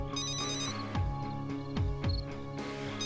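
A telephone rings continuously with a bright electronic tone, steady and fairly close, with a few low thuds underneath.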